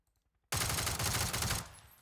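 A loud, rapid burst of automatic gunfire in the video game PUBG cuts in abruptly after a moment of quiet and rattles for about a second before fading.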